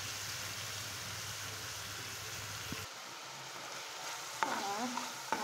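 Minced beef sizzles loudly and steadily in a pan, then the sound shifts abruptly to a quieter, bubbling simmer as water is added, with a few clinks near the end.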